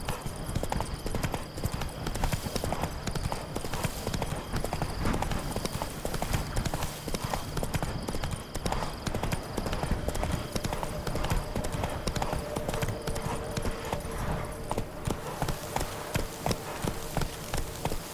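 A horse in the video game Witcher 3 clip-clops along in a steady, continuous rhythm of hoofbeats over a busy game soundscape, with some talking mixed in.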